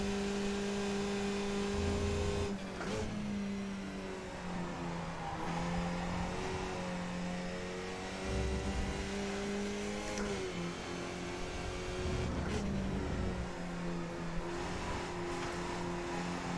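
Race car engines in an iRacing sim race hold steady high-pitched drones that rise and fall with repeated revving and gear changes, several cars close together, loud and continuous with no talk.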